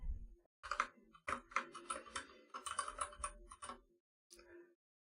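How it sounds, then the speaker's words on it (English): Typing on a computer keyboard in short bursts of quick clicking keystrokes, close and fairly quiet, separated by brief pauses, with a last small cluster after a silence. "I'm typing."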